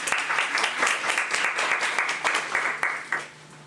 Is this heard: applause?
yes